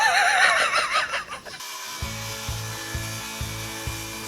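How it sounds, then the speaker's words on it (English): A saw cuts through 1/2 inch MDF wood in a run of even, rhythmic strokes about twice a second, following a brief burst of brighter noise at the start. "I needed to start with 1/2 inch MDF wood, and I need to cut it out"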